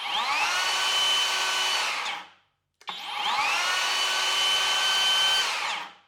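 Skilsaw 48V worm drive circular saw running without cutting: two loud, close cycles, each whirring up to speed, holding steady, then falling off quickly as the blade brake stops it, with a short silence between the runs.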